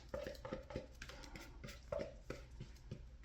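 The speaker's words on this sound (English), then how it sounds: "The spatula just to scrape off its entire contents." A spatula scrapes a bowl clean of mint Oreo chocolate bark mixture, giving a series of close, irregular scraping strokes and light clinks of utensil against bowl, heard alone without talk.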